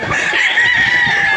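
Battle stag roosters at the Green Country Game Farm in Padre Garcia, Batangas, give a loud, sustained crowing call that rings steadily through the short span, alone without talk.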